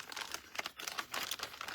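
Plastic bag crinkling and rustling at close range, in irregular soft crackly bursts during a paper-craft session, with no talk.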